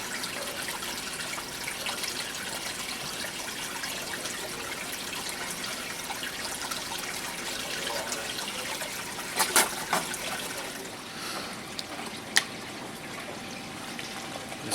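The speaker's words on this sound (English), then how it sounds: "Take the water, we sample the water from in the tank," Aquarium tank water trickles softly into a small test tube, a faint, continuous liquid wash with a couple of brief clinks near the end.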